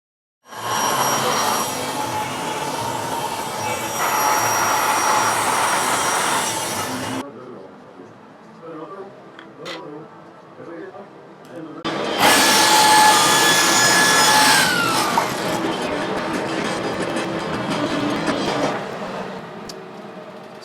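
A table saw fitted with a zero clearance insert rips through plywood in two loud bursts of whining cutting, separated by a quieter stretch with scattered knocks and shop noise.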